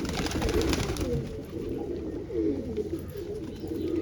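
A flock of pet pigeons gathered at drinking water gives soft, throaty coos in overlapping bursts, near and moderately loud, with no voices present.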